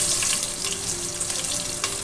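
Ghee sizzles steadily with whole spices such as bay leaves and cardamom plus onion frying for biryani, a close, even crackle with no talking.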